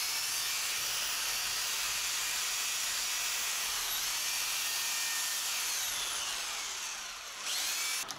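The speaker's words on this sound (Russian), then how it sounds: "С перфоратором действительно удобно." A rotary hammer chases a groove into a wall for electrical wiring in a house, a loud, steady high-pitched grinding whine running almost unbroken, dipping briefly near the end before picking up again, with no voices.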